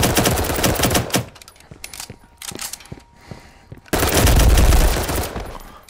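Loud bursts of automatic gunfire in a Firewall Zero Hour match, clustered volleys separated by brief lulls with scattered single shots, then a heavy sustained burst at the end.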